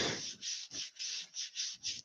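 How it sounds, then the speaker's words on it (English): Wood is sanded by hand with Yorkshire Grit woodturners' abrasive paste, giving a close, rhythmic series of about seven scratchy rubbing strokes with short pauses between them. "the Woodturners sanding paste, abrasive paste"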